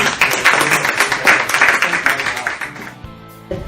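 Audience clapping follows a pitch presentation, a short loud burst of many hands that quickly fades into quiet room noise with a brief sound near the end.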